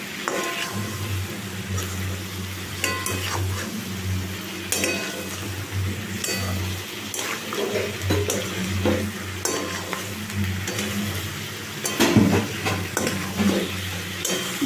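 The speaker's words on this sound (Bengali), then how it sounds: "আস্তে আস্তে করে নাড়াবো, তোর সঙ্গে ভাজা হয়ে যাবে ভালো করে আরেকবার।" Fried chicken pakoras are stirred and refried in a pan for chili chicken. A continuous close sizzle runs under repeated scraping and light clinks of a spatula against metal, with no talking.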